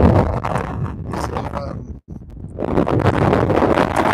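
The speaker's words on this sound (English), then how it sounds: "So as we come back into the wind" Wind buffeting a microphone while hiking beside a pond, a loud low rumbling roar that drops out briefly midway and then returns strongly, with a voice talking over it.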